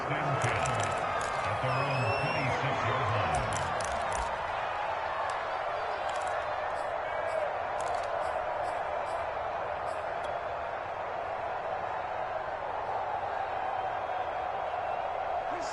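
A football stadium crowd in a PS4 football video game, Eagles on offense in icy winter air, a broad steady crowd roar with faint clapping and scattered clicks, heard under continuous commentary talk.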